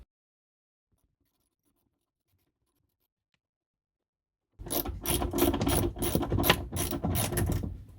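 Quarter-inch ratchet wrench turning a screw during a digital mirror install in a Polestar 2, a rapid series of close clicking ratchet strokes after several seconds of silence.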